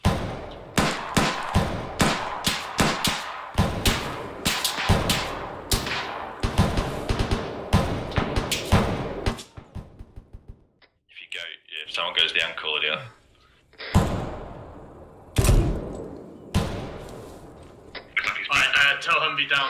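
Rapid gunfire in ArmA 3 during a town assault, loud rifle and machine-gun bursts crackling in dense runs, then scattered shots with pauses, while players talk over the radio.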